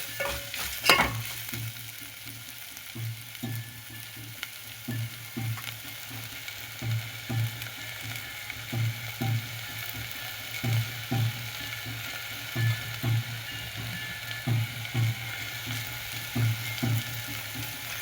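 A spoon stirs a mixture of rajgari greens in a pan over a soft, continuous frying hiss. It makes a steady run of regular scraping knocks, close and moderately loud, and nobody speaks.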